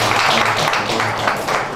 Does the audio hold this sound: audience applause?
yes